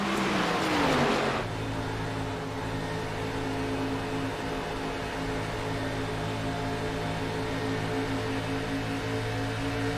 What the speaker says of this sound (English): You can hear the engine pick up, him being in a draft. RPMs increase.